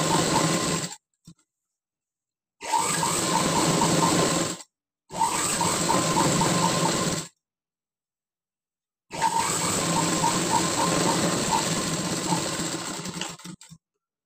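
A sewing machine stitches along a blouse lining in bursts of steady whirring, with several runs broken by short silent pauses while the fabric is folded and repositioned.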